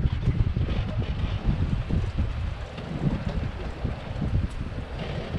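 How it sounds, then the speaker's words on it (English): Gusty wind buffets the microphone at a marina fuel dock beside a 2020 Bayliner Element boat, a low rough rumble that surges and fades, fairly quiet and with no talking. "Yeah, the wind just pushed us in."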